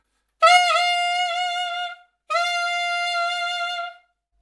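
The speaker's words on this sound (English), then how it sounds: "So let's go into the palm keys, going up to D." A saxophone fitted with a Legere Signature Series synthetic reed plays palm-key high D: two clean, sustained notes, each held about one and a half seconds with a short gap between, close and alone.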